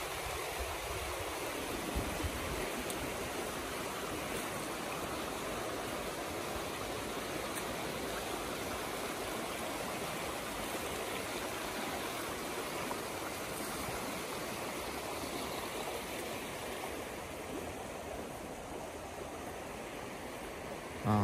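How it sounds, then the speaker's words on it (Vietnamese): A flowing stream running alongside farmland in Châu Đức, Vietnam, a continuous rushing, hissing wash of water that stays steady and fairly close for the whole stretch, with no talk over it. "Suối này chạy về hồ Đá Đen nha mọi người."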